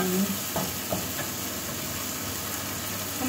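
Food stirred and sizzling in a cooking pan, a steady frying hiss with soft scraping from the stirring utensil, close and moderately quiet.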